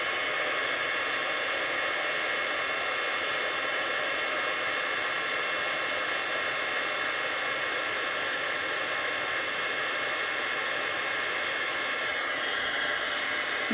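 Heat embossing tool blowing steadily on white embossing powder over a small gift tag, a constant close whooshing hiss like a hair dryer that holds for the whole stretch.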